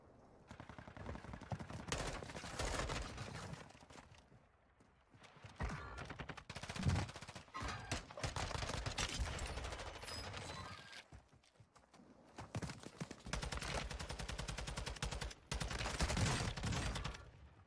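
TAQ56 rifle fire in the video game Warzone 2 on Ashika Island: repeated rapid bursts of automatic shots come in long runs with short pauses between them, steady and fairly close.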